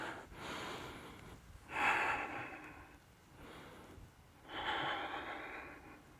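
Slow, deep breaths during a standing hip flexor stretch, two full inhale-exhale cycles close to the mic, each breath swelling into a rushing airy peak before fading, with nothing else in the room.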